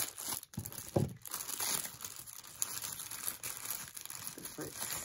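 Packaging being cut open and crinkled during an unboxing of a 3D camera, with bursts of crumpling and tearing throughout and a voice talking over it.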